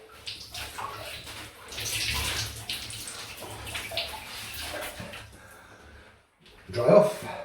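Tap water runs steadily, splashing as a Feather ASD2 double-edge safety razor is rinsed under it, close and moderately quiet, with a brief pause and a final louder splash; someone speaks over the running water.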